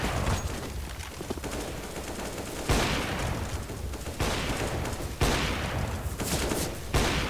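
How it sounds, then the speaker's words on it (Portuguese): Sustained rapid gunfire from a Counter-Strike match, with dense automatic bursts and sharper surges of shots cutting in repeatedly, loud and close, with almost no speech over it. "Os caras já saem atirando."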